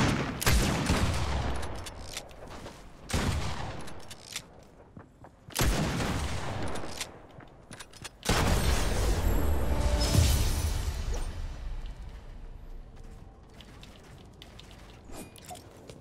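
Video game gunfire in a shooter, with dense rapid bursts in several loud sustained stretches separated by short quieter gaps, and a heavier low rumble toward the end.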